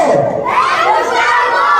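A group of children at a fifth birthday party shouting a greeting together, a short loud burst of many young voices yelling in unison, close and crowded.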